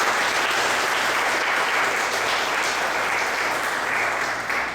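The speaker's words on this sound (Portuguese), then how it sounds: "Vamos dar uma salva de palmas para Jesus." Steady, dense applause from a large audience, loud and sustained throughout with no break.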